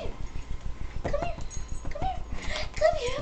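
A dog whimpers and yips in short, high whines over a steady rhythmic background noise, fairly close, with no clear speech.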